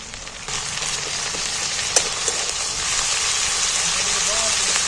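Garlic and ginger paste frying in hot oil with onions, a loud, even, close sizzle that swells slightly over the few seconds.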